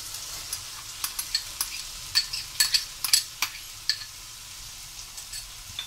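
Spices fry in a pan for misal, a quiet sizzle under a run of light, sharp scraping and tapping strokes from a spoon against the pan.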